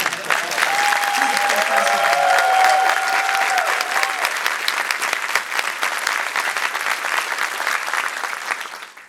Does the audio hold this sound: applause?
yes